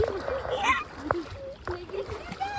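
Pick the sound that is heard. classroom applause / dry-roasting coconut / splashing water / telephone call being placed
splashing water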